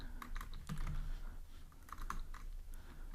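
Soft, quiet keystrokes from someone typing code on a computer keyboard, scattered taps at an uneven pace against low room noise.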